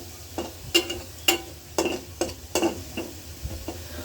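Pieces of hilsa fish going into hot oil in a home kitchen, a series of sharp spattering sizzles and stirring scrapes at an uneven rhythm, close and fairly loud.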